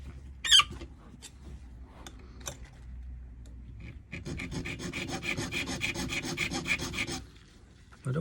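A key blank for a lock is rasped by hand with a file, giving a few scattered scrapes and ticks, then a sustained run of quick, close filing strokes before it stops.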